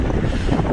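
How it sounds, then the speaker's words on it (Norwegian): Outdoor wind on a cold, overcast afternoon in Mérida buffets the microphone as steady broadband rumble and hiss, continuous and fairly loud, with no speech. "Det blåser"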